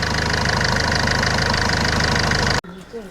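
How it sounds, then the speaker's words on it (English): A Ford Fiesta Classic engine idles while warming up after its engine bay is cleaned, a loud steady close rumble that cuts off abruptly near the end, followed by a voice. "start the engine and wait for 5 minutes so that the engine warms up"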